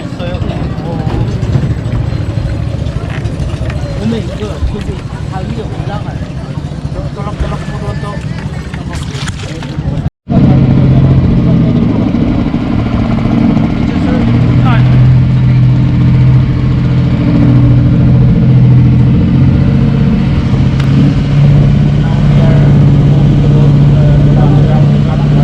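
Boat engines rumble at the Puerto Princesa underground river in Palawan, a steady mid-pitched drone with a brief cut partway through, then a louder, fuller hum as people talk over it.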